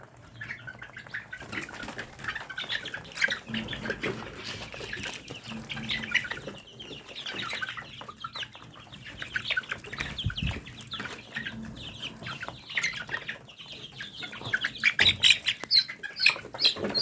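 Fayoumi roosters and hens on a farm at night, with repeated clucking and bursts of wing flapping, loud and close, continuing throughout.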